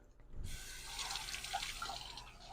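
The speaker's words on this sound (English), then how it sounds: "I tend to wash off my cans" Tap water running onto cans being rinsed off while cooking chili burritos, a steady close splashing stream starting abruptly after a brief quiet moment and continuing alone.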